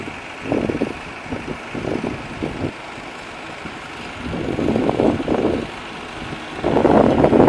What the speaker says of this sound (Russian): Трактор сгребает в кучу